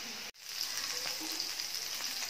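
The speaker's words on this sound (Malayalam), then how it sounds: "ഇനി നമുക്ക് മീൻ്റെ പീസസ് ഇതിലേക്ക് ഇട്ട് കൊടുക്കാം ബാച്ച് ബാച്ച് ആയിട്ട് നമുക്ക് ഇത് ഫ്രൈ ചെയ്തെടുക്കാം" Fish pieces for fish biryani sizzle in hot oil with a dense, steady crackle that starts after a brief silent gap and then carries on alone.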